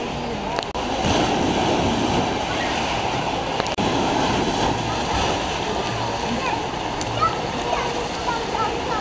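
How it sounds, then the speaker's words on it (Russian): Sea surf near the Alushta water park, a constant close wash of breaking water and splashing that runs unbroken throughout. "Вот оно море здесь."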